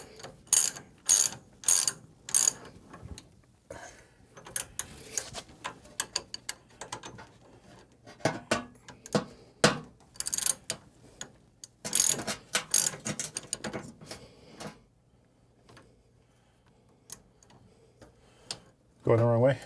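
Ratchet wrench tightening a nylock nut on a coilover suspension for an OBS truck, giving bursts of rapid close-up clicking in repeated strokes separated by pauses, with someone talking at intervals.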